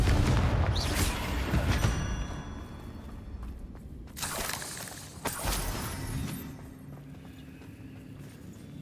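Booming magical blasts from the Confringo fire spell in Hogwarts Legacy, several heavy impacts with crackling debris over rumbling combat noise, loudest at the start and again midway, no voices.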